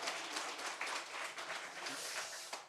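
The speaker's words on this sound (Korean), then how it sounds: "우리 하나님께 영광의 박수 올려드립니다." A church congregation at a Sunday worship service applauding together, a dense, continuous wash of clapping from many hands that fills the room, moderately far off with no clear voices above it.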